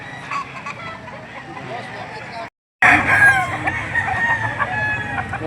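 Boston Roundhead roosters and hens at a farm in Lipa City, Batangas, crowing and clucking up close and loud, broken by a brief moment of silence, with a voice talking faintly underneath.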